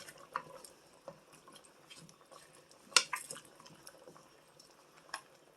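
A lid clanks once onto a Dutch oven of frying potatoes, onions and kielbasa, a single sharp metallic knock in the middle of an otherwise quiet kitchen with faint small clinks around it.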